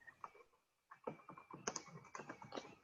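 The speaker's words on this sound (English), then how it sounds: "I'm just typing the answer in here" Someone types on a computer keyboard, producing a quiet, irregular run of light key clicks. After a short pause the typing resumes in a steady patter.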